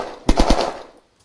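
A quick burst of automatic gunfire from a weapon in the zombie-survival video game Unturned: three or four rapid, loud shots followed by a short decaying tail, then silence, with no talking.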